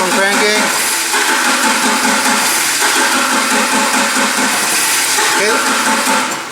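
A Nissan forklift engine cranks steadily without starting, with a continuous loud whirring and chugging drone that runs unbroken throughout.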